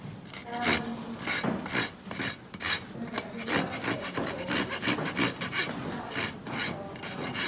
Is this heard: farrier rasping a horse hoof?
yes